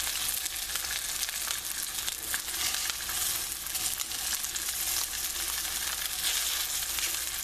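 Cornstarch sauce for Cantonese-style lobster and shrimp sizzles in the pan, a steady, close, crackling hiss that keeps going without a break and with no talking.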